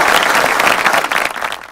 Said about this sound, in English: A big round of applause for all our writers who have brought out their creativity in these pieces.